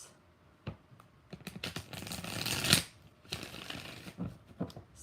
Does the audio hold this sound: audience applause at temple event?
no